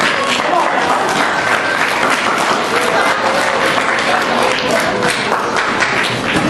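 An audience gives warm applause for a guest speaker at a resiliency event, a dense, steady wash of clapping filling the room for several seconds with faint cheers mixed in.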